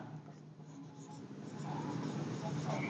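A pen writes continuously on paper during a Hindi lesson on the present continuous tense, a soft steady scratching that runs the whole time and grows slightly louder toward the end.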